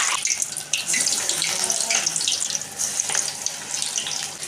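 Banana flower vada batter sizzling and crackling as it is slid into hot oil, a dense bubbling hiss with scattered pops, close and steady throughout.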